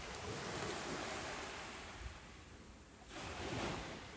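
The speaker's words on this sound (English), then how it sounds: "Outside, the sea keeps its patient rhythm, steady and unchanging" Ocean waves washing in the sea outside Tybee Island Lighthouse, a soft rolling surge that swells, eases, then rises again, with wind noise blowing across the microphone.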